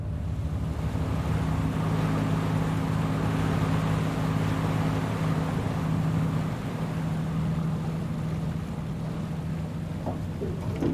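A vessel lies aground among mangroves with its engine running slowly ahead, a steady low engine hum mixed with rushing wind and water noise, continuous throughout with no talk.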